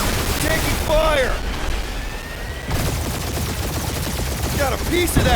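Gunfire rattles in bursts during a firefight in the Guardians of the Galaxy video game, with sci-fi whooshes, booms and scattered explosions layered throughout.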